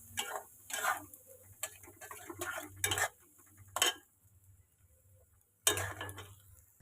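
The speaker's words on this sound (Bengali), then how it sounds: "মশলাটা কষাতে থাকবো" Chicken kosha spice paste clattering in a pan, a spoon or spatula scraping and knocking in short irregular bursts with quiet gaps, close and alone, no talk.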